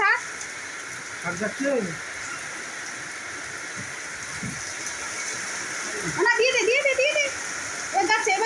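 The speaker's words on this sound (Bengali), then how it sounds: "খুব জোরে বৃষ্টি এসছে" Heavy rain pours down in a dense, continuous roar, while a voice speaks briefly at the beginning and again near the end.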